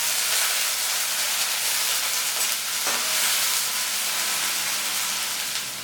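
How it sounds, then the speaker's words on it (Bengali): Chopped onion, slit green chillies and black cumin fry in hot mustard oil in a wok, a loud steady hissing sizzle with occasional stirring scrapes and no talk. "পেঁয়াজটা ভাজা হয়ে গেছে এর মধ্যে"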